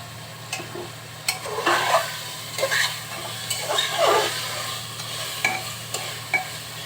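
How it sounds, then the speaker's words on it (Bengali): Chicken pieces sautéed with spices in a pan, a moderate sizzle under repeated stirring and scraping strokes that come in irregular bursts, close and fairly quiet, with no speech. "মশলার সাথে এখন মাংসগুলো খুব সুন্দরভাবে কষিয়ে নেব।"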